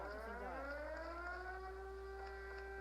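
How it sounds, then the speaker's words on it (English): A nuclear-style civil defense siren wails from a mobile battle royale game as the zone shrinks, its rising and sliding tones held steady over a low constant hum, alone with no talk. "Has like a nuclear siren when the zone starts getting smaller."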